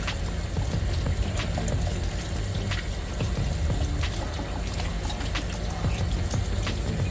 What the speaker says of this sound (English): I'm gonna go ahead and let the water off.